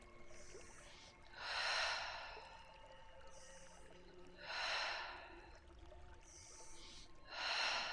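Deep, slow breaths during a gentle wake-up warm-up exercise class, three long audible exhales spaced a couple of seconds apart, close and soft, with quiet room tone between them.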